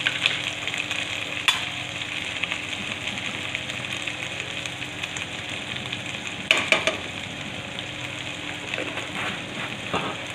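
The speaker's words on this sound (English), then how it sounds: "fry the ginger and garlic paste, so the smell of ginger garlic will go away" Ginger garlic paste frying in a pan gives a steady crackling sizzle throughout, with occasional sharp clinks and scrapes of a spoon against the pan, loudest near the middle and toward the end.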